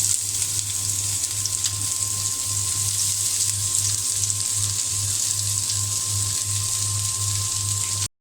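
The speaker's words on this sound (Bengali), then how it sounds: "এখন আমি এই তেলের মধ্যেই দিয়ে দেব পেঁয়াজ কুচি।" Chopped onion fries in hot oil left in the pan after frying eggs, giving a continuous, even sizzle that stays close and loud throughout, with no talking over it.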